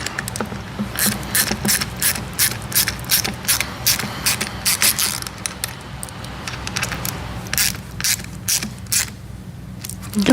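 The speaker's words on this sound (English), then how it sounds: "I'll grab our 90-degree screwdriver, hold this in place" A 90-degree ratcheting screwdriver clicks in rapid bursts while fastening a Tesla Model Y splash guard, the close, sharp ratchet pawl ticks repeating in steady groups with short pauses between strokes.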